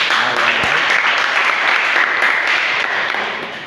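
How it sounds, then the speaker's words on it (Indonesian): A class applauds after a student presentation, a loud, dense and continuous clapping that stays steady and then tapers slightly at the end. "Terima kasih, tepuk tangan."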